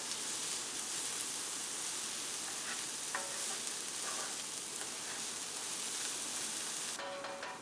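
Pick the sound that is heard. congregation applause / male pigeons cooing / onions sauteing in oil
onions sauteing in oil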